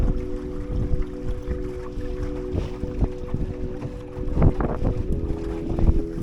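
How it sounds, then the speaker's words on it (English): Steady wind buffets a small sailing dinghy on Lake Ullswater, a continuous low rush with microphone gusts and faint water sloshing against the hull throughout, no talking. "The wind picks up."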